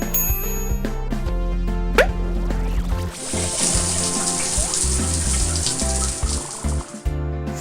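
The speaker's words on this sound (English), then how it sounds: "I'll help you rinse off the foam." Water rinses foam off a cartoon car at a car wash: a steady bright rushing spray runs for several seconds over cheerful cartoon music, with a short bell-like ding at the start.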